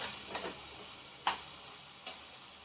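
Spice paste frying in oil in a pan, a quiet steady sizzle broken by a few sharp stirring scrapes or ticks, close and with no voices.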